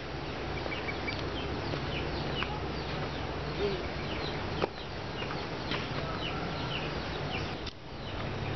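Chickens cluck and murmur in a busy, steady chorus with scattered sharper calls, fairly close and continuous, with no talking.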